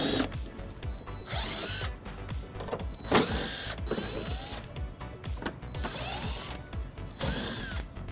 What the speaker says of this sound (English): we're going to remove 6 bolts using an 8mm socket